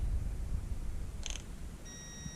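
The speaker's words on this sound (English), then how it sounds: "I have my multimeter here and it's set on continuity" Short, steady electronic beep from a multimeter on its continuity setting, sounding near the end after a brief click and light handling noise, with no talking.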